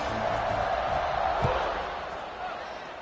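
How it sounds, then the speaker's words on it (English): A stadium crowd at an Oregon football game buzzes with a broad, steady roar after a score, fading slightly toward the end, with a single thump midway and voices talking over it. "this crowd is buzzing after that last score"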